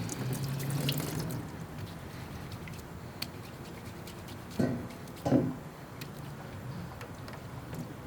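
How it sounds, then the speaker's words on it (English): Tap water runs steadily into a sink as something is rinsed by hand, a continuous hiss with a couple of brief splashy bumps partway through. "Let's give it a quick little wash."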